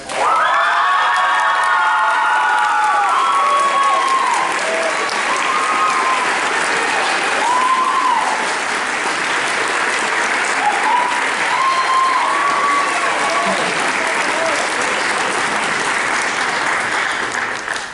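A high school band concert audience in an auditorium gives sustained, loud applause for a senior award winner, with scattered cheers and whoops rising over the clapping throughout.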